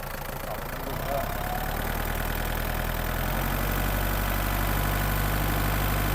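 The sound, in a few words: used Kubota tractor engine idling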